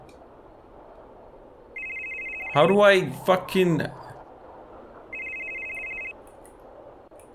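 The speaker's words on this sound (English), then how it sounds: "Phone is ringing." A phone ringing in a video game, two steady electronic ring bursts with a gap between, while someone talks over the middle section.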